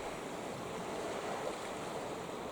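Waves wash onto a beach in the morning, a steady broad roar of surf mixed with wind buffeting, heard alone at an even, moderate level.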